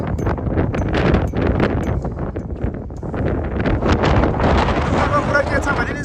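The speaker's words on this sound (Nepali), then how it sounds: "हावा एकदम बढी चढेको छ।" Strong wind gusting at Dhumba Lake in Mustang, buffeting the microphone with loud, continuous rumbling roar and bursts for several seconds.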